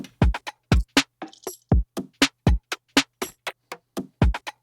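Dry percussion from an MPC One sampler with no effects, a steady rhythmic pattern of crisp, close hits separated by short silences.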